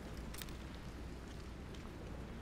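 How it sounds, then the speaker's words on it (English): Steady, dense rain in Aliens: Colonial Marines pours down as a constant wash of hiss and patter, loud and unbroken throughout, with no voices. "Why are the raindrops hitting me in the eyeballs like that?"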